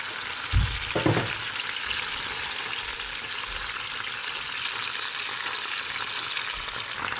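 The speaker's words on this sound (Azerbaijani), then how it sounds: "Bu tomatla ketçup qəşəng qovruldu. Üzərinə su əlavə edirəm biraz." Tomato and ketchup sauce sizzles steadily in a pan after a splash of water, a dense continuous hiss with a couple of brief low thumps near the start.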